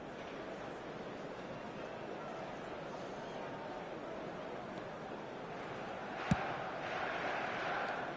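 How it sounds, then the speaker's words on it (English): A stadium crowd in the eFootball 2025 football video game keeps up a steady, dense roar throughout, with one sharp click near the end and a slight swell in the last seconds. "Certainly gave this crowd something to really cheer about."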